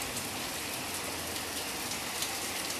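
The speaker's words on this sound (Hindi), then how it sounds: "देखो गाइज कितनी मोटी बारिश आ रही है" Heavy rain pours down during a violent storm, a thick, even hiss of dense drops heard close and steady throughout, with no voices.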